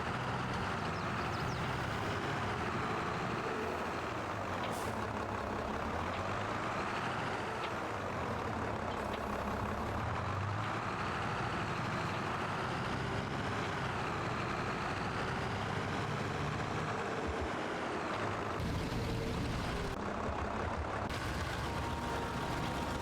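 A tractor engine in a farming video game runs steadily on grain hauling duty, a continuous heavy diesel drone with slight shifts in pitch, at a moderate level throughout.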